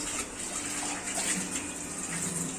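Running tap water pours steadily while rice and lentils for dal khichdi are washed in a kitchen, a continuous close gush with light splashing, no talk.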